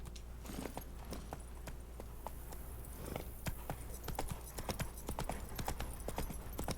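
Roach, Geralt's horse in The Witcher 3: Blood and Wine, clip-clops in a steady walking rhythm of sharp, close hoofbeats over a low continuous background hum, with no talk.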